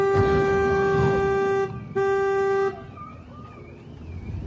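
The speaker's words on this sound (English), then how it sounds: "And who's the person honking?" A car horn honks in two long sustained blasts, the second following a brief gap, loud and close over steady traffic noise, then fading into a quieter street hum.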